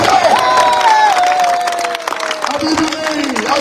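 A crowd claps and cheers at a political rally in Lahore, bursts of applause mixing with shouts and a loud amplified voice over the noise.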